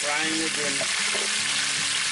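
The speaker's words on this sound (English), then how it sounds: "I will keep frying it in," Steady, loud sizzling of meat scraps frying in a hot pan, with a faint voice murmuring underneath.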